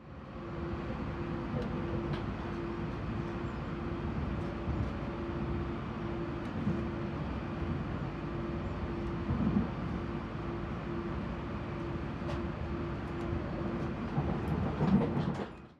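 Steady low rumble and hum inside an AM class electric multiple unit train riding from Pukekohe, continuous and fairly quiet with faint rail clicks throughout.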